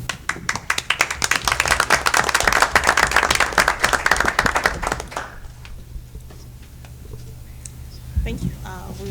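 Applause for the fire department at a village board meeting, a room of people clapping steadily for about five seconds before it fades out, followed by quieter room sound and a voice speaking near the end.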